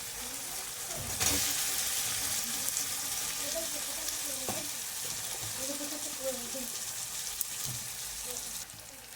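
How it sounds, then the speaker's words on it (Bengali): Thinly sliced potatoes frying in a pan with fish masala and tomato for a Lotte fish curry, giving a steady close sizzle throughout with a few brief clinks and stirring scrapes. "এবারে দিয়ে দেবো সরু সরু করে আলু কুচিয়ে রেখেছিলাম আলুগুলো"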